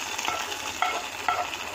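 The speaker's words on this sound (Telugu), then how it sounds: "పప్పు తాలింపు వేసుకోవాలి. అందులో ఆయిల్, ఆవాలు, జీలకర్ర, వెల్లుల్లి, ఒట్టి మిరపకాయలు," Dal tempering of mustard seeds, cumin, garlic and dried chillies sizzling in hot oil, a brief close crackling hiss with a couple of sharper pops near the end.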